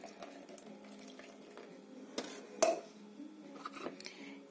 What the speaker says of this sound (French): Je vais rajouter l'équivalent de 4 cuillères à soupe d'eau